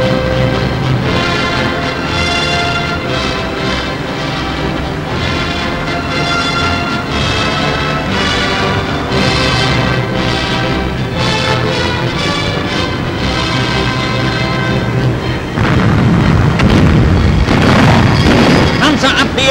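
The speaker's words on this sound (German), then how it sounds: "Panzerabwehr im Gefecht." Anti-tank gunfire and explosions in battle on a 1940 wartime newsreel soundtrack, loud continuous booms and blasts layered with music, a heavier burst of detonations near the end.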